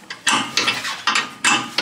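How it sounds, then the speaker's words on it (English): 14 mm wrench working a bolt on Honda Civic rear brakes, a series of sharp ratcheting clicks in quick bursts, close and loud with brief pauses between strokes. "I'm gonna just end up using a 14 wrench there."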